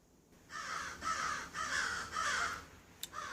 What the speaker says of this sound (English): Crows are having a conniption fit here.